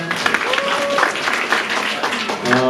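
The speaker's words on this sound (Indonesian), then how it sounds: "Tepuk tangan lagi dong buat Tuhan." A church congregation at a Christmas service claps for God, a close, loud burst of mixed hand claps with voices and shouts overlapping throughout.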